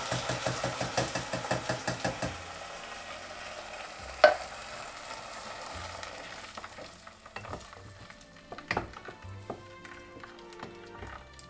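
Canned tomatoes go into a pot for ratatouille, with stirring scrapes, a sharp clank and low simmering bubbles that rise and fall in bursts.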